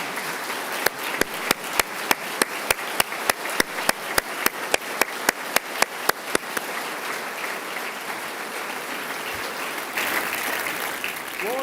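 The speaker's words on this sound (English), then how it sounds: "Give her a round of applause" An audience applauds a guest at the 2025 Ohio State of the State address, a dense, steady wash of clapping with sharp, near, regularly spaced claps standing out in the first half, the crowd sound then thinning but carrying on.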